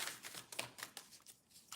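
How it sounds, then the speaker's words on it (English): A deck of cards being shuffled by hand; a quick run of soft riffling flutters and taps, close but quiet, with no talk. "That's not one card, so I gotta keep shuffling."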